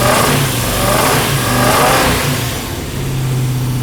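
A Hemi-powered Dodge Dart's V8 engine runs close and loud, revving up with a heavy throaty roar before easing back toward a rumbling idle.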